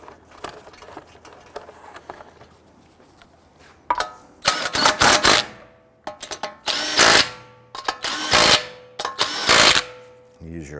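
A power tool runs lug nuts onto the front right wheel of a 2008–2013 Infiniti G37x, with quiet handling noise at first, then a series of loud, close whirring bursts in quick succession, some clipped short.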